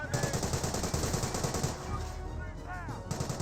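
A Bren carrier fires in the World War II strategy game Company of Heroes: rapid, steady automatic bursts rattle for nearly two seconds, then sparser shots, set among distant battle noise.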